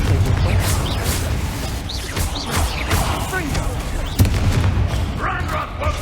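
A Confringo fire spell blasts during frantic Hogwarts Legacy combat, with booming impacts and crashes piling up amid dense battle noise, and a voice calling out over the fight.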